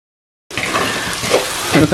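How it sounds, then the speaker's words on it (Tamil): Chicken hearts fry in a pan, a dense, close sizzle that starts abruptly after a brief silence and holds steady to the end. "3 நிமிஷமாக நான் இதை பொரிய விட்டுருக்கிறேன்."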